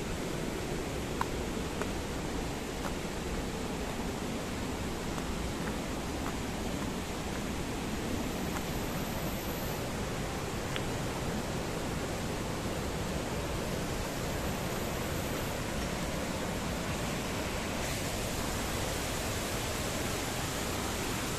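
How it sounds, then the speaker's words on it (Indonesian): A waterfall gives off a continuous rushing hiss, fairly soft and unchanging across the whole stretch, with no one speaking. "Ini air terjun yang kedua ya."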